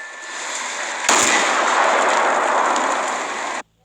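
A gunshot in the video game Brawl Stars lands as a sudden loud blast followed by a sustained hissing, crackling roar that holds for about two and a half seconds, then cuts off sharply.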